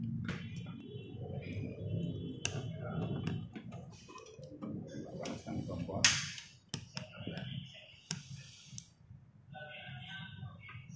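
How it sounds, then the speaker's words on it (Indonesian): A gas stove's igniter clicks as it is lit to heat a steamer for steamed palm sugar sponge cake: scattered sharp ticks and a few louder snaps over a low kitchen rumble. "Kita panaskan di kompor."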